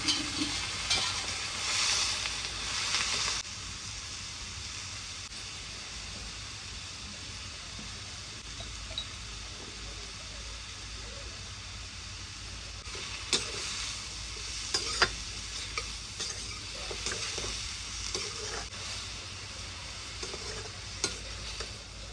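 Green chili and a few garlic cloves fry in a pan for a simple vegetable curry, giving a low continuous sizzle with occasional louder stirring scrapes, faint and without talk.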